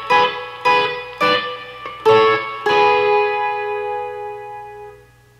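An electric guitar with effects strums the chords of a song, five bright chord hits in quick succession, the last left ringing out and fading slowly, alone and close with no voice.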